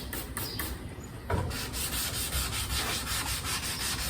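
Steady back-and-forth rubbing of 800 grit sandpaper on the paint of a 1968 Pontiac Firebird, close and continuous with a brief harder stroke partway through.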